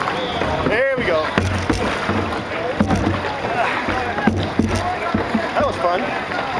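Canoe paddling during a river race, with paddles splashing and water rushing amid wind noise, while people talk nearby throughout.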